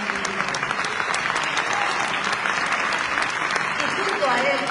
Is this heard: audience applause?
yes